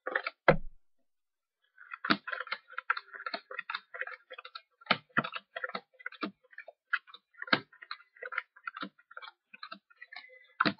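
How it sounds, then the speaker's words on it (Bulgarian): Playing cards being laid down and flipped over one by one, a sparse series of crisp close clicks and soft slaps in an uneven rhythm, with a brief pause near the start. "Като слагаме една карта на другата половина и отваряме една."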